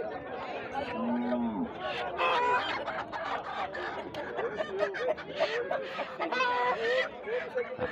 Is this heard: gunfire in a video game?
no